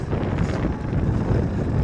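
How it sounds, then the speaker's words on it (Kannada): Strong wind on a hilltop buffets the microphone in a constant, loud rumbling roar with no pauses. "ಗಾಳಿ ಮಾತ್ರ ಸಖತ್ತಾಗೈತೆ"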